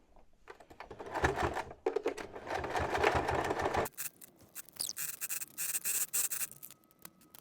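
A sewing machine stitches a small fabric keychain in short bursts, with a pause near the middle and quieter stop-start running and handling afterward, close by and with no talk.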